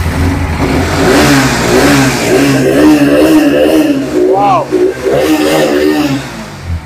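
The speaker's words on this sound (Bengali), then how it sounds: "দেখুন ইঞ্জিনের সাউন্ড শুনুন গাইস" A used motorcycle's engine revs loudly at a bike showroom near Kolkata, the throttle rising and falling for several seconds with a steady low drone beneath, while a voice exclaims briefly partway through.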